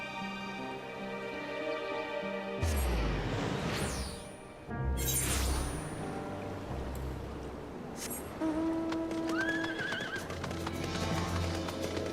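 Video game horse neighing loudly with whinnies and snorts, hooves clip-clopping steadily underneath, a sharp whooshing crash partway through over a constant ambient music bed.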